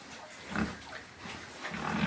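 Low grunts and snuffling from growing piglets on a farm come in a few short bursts, fairly quiet, with no talking.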